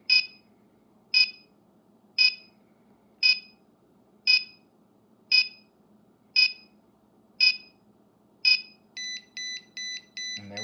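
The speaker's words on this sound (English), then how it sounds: "And there we have our alarm." An Arduino-based home alarm panel beeps in sharp, evenly spaced single tones about once a second during a countdown after motion is detected, then switches to a faster rapid pulsing alarm pattern near the end.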